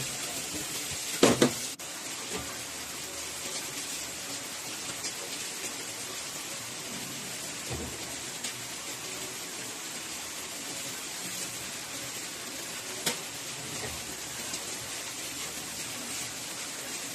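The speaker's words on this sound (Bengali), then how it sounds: "সেমাইগুলো দিয়ে হালকা হাতে নেড়ে চেড়ে খুব ভালো করে লাল লাল করে ভেজে নিতে হবে।" Vermicelli (semai) being stirred and fried in a pan over low heat with dry fruits, a steady soft sizzle like light rain throughout, with a few louder scrapes and knocks from stirring.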